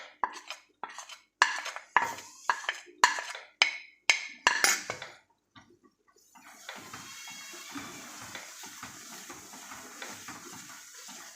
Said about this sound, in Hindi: अब ये जो सूजी है इस वक्त भूननी स्टार्ट हो गई है